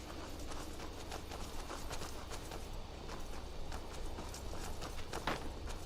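Horses' hooves clip-clopping in Skyrim, a dense, continuous run of hoof clatter close by over a rough outdoor background, with no voices.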